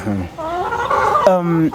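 Chickens on a poultry farm clucking and squawking up close in a busy overlapping chorus of short harmonic calls, loud and continuous with no other sounds.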